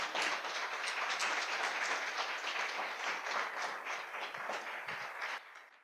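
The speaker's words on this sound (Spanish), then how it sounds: "Dale ese aplauso al Rey." A church congregation applauds steadily in a dense, even wash of clapping that holds for several seconds before quickly fading out.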